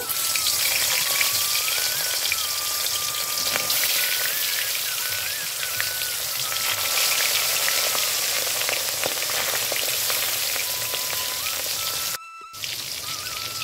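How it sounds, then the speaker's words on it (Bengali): Katla fish pieces fry in hot mustard oil, giving a dense, loud, crackling sizzle that holds steady from start to end with a brief dropout near the end, heard up close with no speech. "তেলটা গরম হয়ে গেছে, এবার আমি মাছগুলো ভেজে নেব।"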